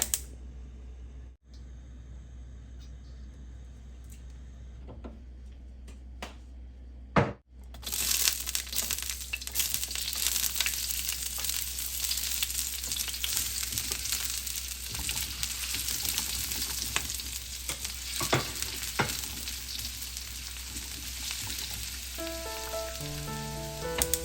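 Chicken liver and gizzard sautéing with onion and garlic in a hot pan, a loud, dense sizzle that bursts up after a quieter start and keeps crackling steadily, with occasional stirring scrapes.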